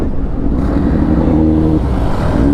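A motorbike engine revs hard and loud, a sustained rising roar from close by, with no talk over it.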